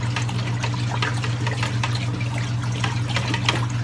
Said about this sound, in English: So we're just gonna give that a stir. Stir that up.